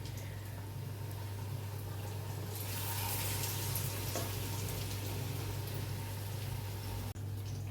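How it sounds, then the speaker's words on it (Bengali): Steady sizzling of chicken pakoras frying in hot oil, a continuous bubbling hiss over a low hum, with a brief knock near the end. "এই পকোড়াটা কিন্তু বেশি হাই হিটে ভাজা যাবে না"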